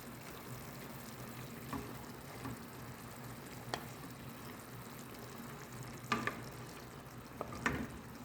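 Chicken browns in butter with onions in a pan, giving a soft, steady sizzle with occasional stirring clicks and scrapes, faint and close.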